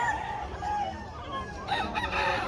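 Rooster crowing repeatedly at a busy chicken market in Bulacan, loud and near against a noisy backdrop of other fowl clucking and market bustle.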